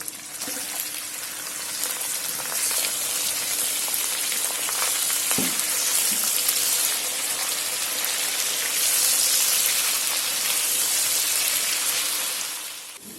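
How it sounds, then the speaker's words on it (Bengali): Beef pieces sizzling in hot oil in a pan while cooking beef korma, a loud, steady broadband fry hiss that runs the whole time, with a few faint clinks partway through. "এই গরুর মাংসটা আমি এখানে দিয়ে দিব।"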